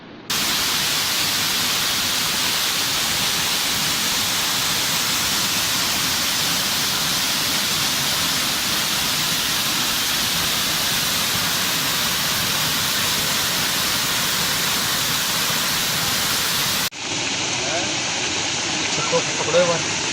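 The Kantli river in Shekhawati, Rajasthan, flows in a steady, loud, broadband rush of water that continues without a break, then shifts abruptly to a slightly different, thinner rushing tone near the end.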